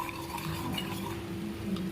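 Gram flour whisked into water for a potato kurma, with a steady scraping and swishing of a utensil in a bowl, continuous and close, no talk.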